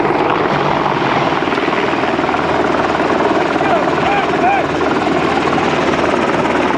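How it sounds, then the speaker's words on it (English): An Apache military helicopter flies near the Serbia–Albania border, its loud rotor thrum and turbine roar steady and continuous from start to finish. "Cameraman Fletcher Johnson pans away, then back to catch the Apache as it drops behind a small hill."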